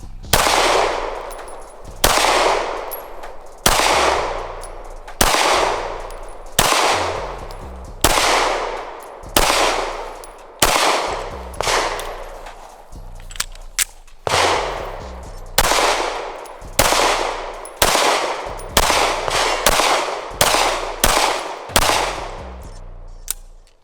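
Smith & Wesson Performance Center 9mm Shield EZ pistol fired repeatedly, sharp loud close shots with ringing tails, spaced steadily at first and then quicker near the end, with no speech.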